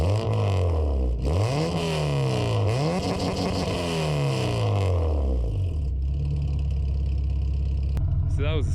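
An Acura RSX engine cranks and revs up through a throaty custom exhaust, rising and falling a few times before settling into a loud, rumbling idle.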